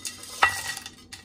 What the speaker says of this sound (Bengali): প্রথমে আমি কিছু তেল দিলাম, তেলের পরে আমি আস্তে আস্তে সব মশলাগুলো দেব।